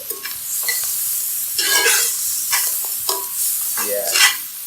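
Food sizzles and fries loudly on an electric hot plate set a little too high while homemade spinach and chicken ravioli cooks, with a steady crackle, bursts of spattering and occasional stirring scrapes.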